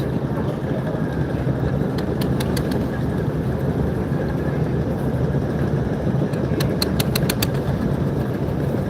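A 300-foot (90-metre) river passenger launch, the M Khan 7, backs away in reverse gear, its large engine producing a steady, loud low rumble throughout, with a few faint high ticking sounds in two short clusters.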